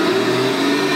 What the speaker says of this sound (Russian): И теперь будем нажимать газ и будем получать море дыма.